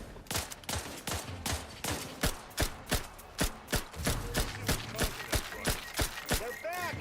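Gunfire rings out in a fight in The Outer Worlds, a rapid run of sharp loud shots in a fairly regular rhythm with short gaps, some mechanical clicks between them and a few faint metallic ringing tones near the end.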